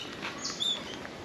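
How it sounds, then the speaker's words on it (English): Birds calling at a wild park, a few faint, thin chirps against a quiet outdoor background. "Birds are very friendly, as you would have just seen."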